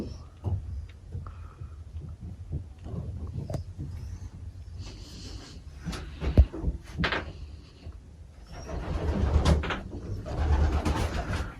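Young racing pigeons coo softly in a breeding cage, with scattered low throaty coos, wing flutters and a few knocks against wood, close by and uneven in rhythm.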